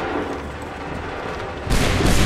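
A volley of musket fire erupts in Assassin's Creed III, a sudden loud blast after a stretch of rumbling battlefield ambience, the crack hitting all at once near the end.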